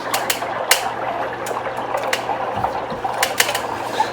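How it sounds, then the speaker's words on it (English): An electric water heater tank fills with water, giving a continuous low gurgling hiss with a faint pump-like hum and scattered sharp clicks and taps, with no talking. "We're gonna let this tank fill up."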